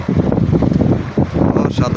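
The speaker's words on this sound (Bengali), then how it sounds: "কি বাতাস, বাতাসে দেখেন দেখেন কি অবস্থা, বাতাস প্রচুর বাতাস।" Strong wind gusting during heavy rain in Saudi Arabia, a loud, rough rumble buffeting the microphone in uneven bursts.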